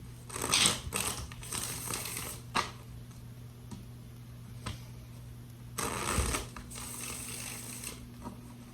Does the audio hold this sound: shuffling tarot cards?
yes